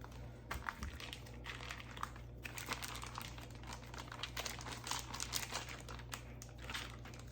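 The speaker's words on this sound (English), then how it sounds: "I'm gonna take my pack, open it up, and I'm going to lay my bacon out into the pans in a thin layer" A pack of bacon being opened and its strips laid on parchment-lined cookie sheets gives soft plastic crinkling and rustling handling noises, quiet and close, with no voices.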